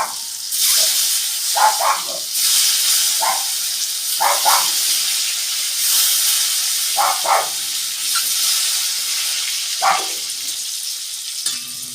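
Eggs fry in hot oil seasoned with turmeric and chili powder for an egg curry, producing a loud, continuous, close sizzling hiss broken by brief, louder bursts.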